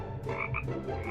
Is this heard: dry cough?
no